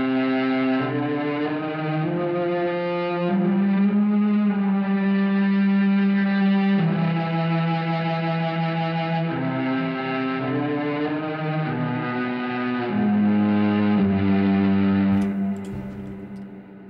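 A distorted cello carries a slow legato melody in a film score, smooth connected notes with a gritty effected edge, loud and sustained throughout before fading at the end.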